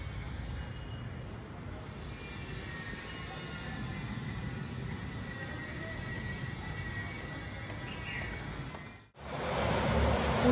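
First rain of the season falling at night in Chinchwad during a power cut, a steady, dense hiss of rainfall that briefly drops away and then returns louder.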